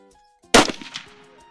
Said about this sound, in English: We have been test firing the sights and rifles, which is very important.